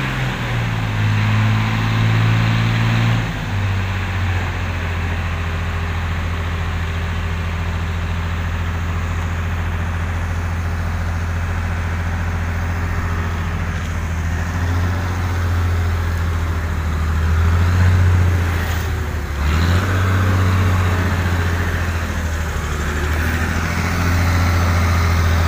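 A 1992 Hino Ranger FF diesel truck engine idles steadily with a low, droning rumble, its pitch shifting briefly a few times before settling.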